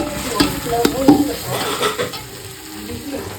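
Masala frying in oil inside a pressure cooker, with a steady low sizzle and a few scraping stirs of a spoon near the start, fading slightly toward the end.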